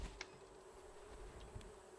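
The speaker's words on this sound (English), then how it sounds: "I walked by the bees and I was like, what the fuck is that noise?" Bees buzzing in the survival video game Raft, a faint, steady insect drone with a couple of brief clicks, heard quietly with no talking.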